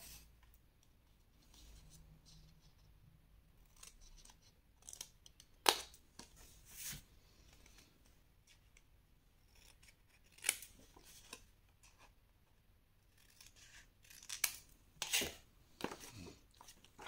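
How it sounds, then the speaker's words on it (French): Scissors snip paper labels for advent calendar boxes in a scrapbooking craft session, producing sparse, crisp close cuts scattered over a quiet background. "Vous retournez ensuite et vous allez couper ici sur toutes les lignes."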